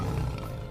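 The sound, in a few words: tiger Stripe Fang low growl, cartoon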